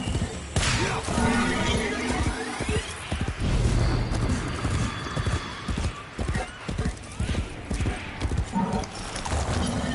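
Horse hooves clip-clopping in a PS5 video game, a steady, loud run of hoofbeats lasting throughout, with a whinny and some crashing game effects mixed in.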